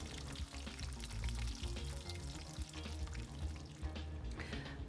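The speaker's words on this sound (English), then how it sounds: "put it into that nice pan with the hot oil" Battered fish frying in a pan of hot oil, a loud continuous bubbling sizzle close up with spattering crackles throughout, no voices.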